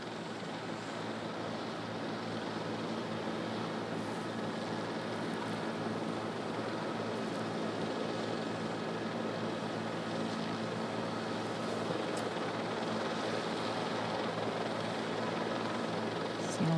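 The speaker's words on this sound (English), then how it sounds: "And here it comes in now, this JetBlue Flight 292 with that front nose gear pointed sideways." The JetBlue Flight 292 airliner comes in to land with its front nose gear pointed sideways. A faint, steady jet roar carries from a distance, mixed with wind rush and no talk.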